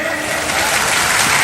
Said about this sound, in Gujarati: આપણે સૌ તાળીઓના ગડગડાટથી વધાવીએ